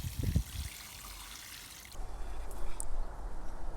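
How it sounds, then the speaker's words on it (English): Water soaks into dry soil in a shady bench planter box: a faint, quiet trickle and hiss of pouring water, with a soft bump at the start and a slightly stronger flow in the second half. "I just gave the whole thing a good soaking with water"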